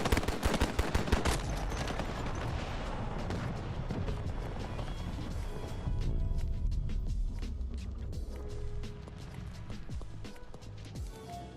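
Pistol gunfire in the Battlefield 2042 shooter game: a rapid burst of sharp cracking shots at the start, then scattered single reports and clattering combat noise over a rumbling battlefield background.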